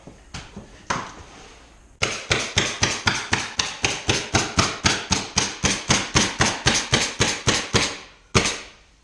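Nails are hammered into the edges of a quarter-inch plywood sheet being installed: a few scattered taps, then a fast, even run of about two dozen sharp, close blows, then a final strike.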